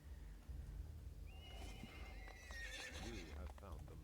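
In a fantasy video game, a horse whinnies with a rising and falling neigh, accompanied by hoof clip-clops, over steady low ambient background noise.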